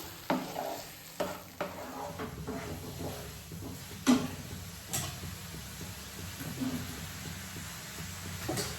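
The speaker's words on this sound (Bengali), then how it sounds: "মশলাটা একটু ভালো মতো কষো।" Spice paste is sautéed in a pan with a steady close sizzle, broken by repeated scraping stirs and a few louder knocks of the spoon against the pan.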